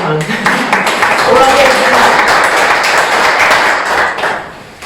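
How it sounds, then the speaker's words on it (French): Members of a newly installed municipal council in Saint-Abraham applaud together, a steady wash of indoor clapping that holds for several seconds before fading slightly. "je pense qu'on peut déjà s'applaudir"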